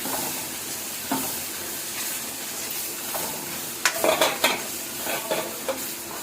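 Onions fry in a pan for egg curry, giving a continuous crackling sizzle nearby, with a short run of spoon scrapes and pan knocks toward the end and no speech.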